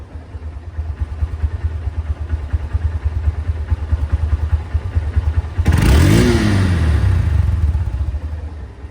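A secondhand Honda Hornet CBS motorcycle idles with a steady low, close rumble, then revs up sharply partway through and eases back down, smooth and loud.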